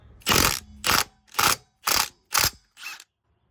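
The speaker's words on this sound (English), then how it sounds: "I only have my 3/8 gun here, so I adapted 3/8 to half inch back down to 3/8" A 3/8 impact gun with an adapter working on a 240sx, firing six short, evenly spaced rattling bursts close up, the last one weaker, then silence.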